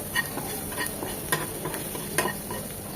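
Chili powder frying over low heat in oil for a spicy masala chicken fry, a steady close sizzle with a few louder stirring scrapes at intervals.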